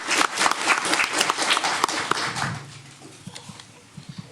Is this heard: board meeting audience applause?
yes